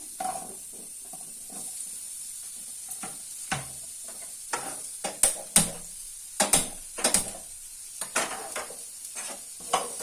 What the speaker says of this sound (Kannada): ಈರುಳ್ಳಿ ಬೆಳ್ಳುಳ್ಳಿನ ನೀಟಾಗಿ ಬ್ರೌನ್ ಕಲರ್ ಆಗೋವರೆಗೂ ನಾನು ಫ್ರೈ ಮಾಡ್ಕೋಬೇಕು